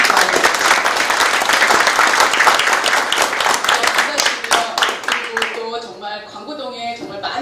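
Warm, dense applause from townspeople for the mayor of Icheon at a citizens' dialogue in Gwango-dong. Loud, rapid clapping fills most of the moment, then thins out as a speaker begins talking.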